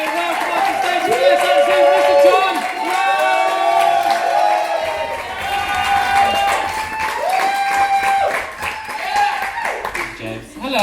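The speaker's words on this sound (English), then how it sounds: "So start cheering and start clapping." Comedy club crowd clapping and cheering steadily through the whole stretch, with whoops over the applause and a voice talking loudly on top.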